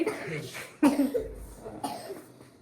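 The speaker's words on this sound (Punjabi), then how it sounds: "ਮੈਨੂੰ ਖਾਂਸੀ ਹੈ" A few short coughs from a nearby person, spaced apart, with soft talking around them.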